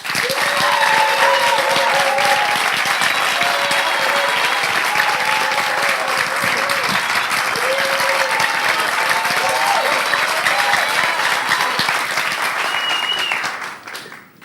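Loud, dense audience applause greeting a presidential candidate arriving at a Congolese TV studio, sustained for over ten seconds with some voices mixed in before fading out at the end.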